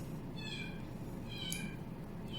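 Two faint, drawn-out meows from a cat indoors, the second slightly longer, rising over a steady low room hum with no talking.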